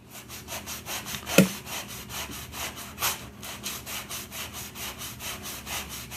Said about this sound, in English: take my little 180 grit sanding block and simply just take off the rough edges on that